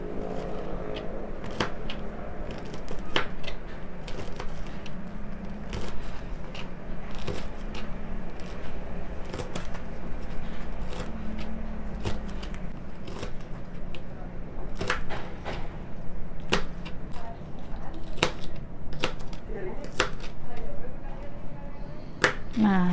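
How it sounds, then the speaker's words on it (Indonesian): Green chili peppers are cut with a knife on a board while Indonesian egg and tamarind dishes are prepared, giving a run of sharp, irregular taps and clicks close by, with faint background noise and some talk. "setelah kita potong ini juga cabai hijaunya kita potong ya teman-teman"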